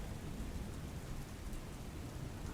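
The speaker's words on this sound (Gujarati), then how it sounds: "અમદાવાદમાં વહેલી સવારથી વરસાદ વરસી રહ્યો છે" Rain falls steadily in Ahmedabad in the early morning, a soft, even hiss of drops with a low rumble underneath and no voices.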